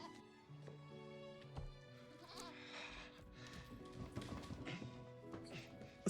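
A goat bleats repeatedly at close range, its wavering, nasal cries overlapping with light tapping and hoof-like clip-clop sounds in the background.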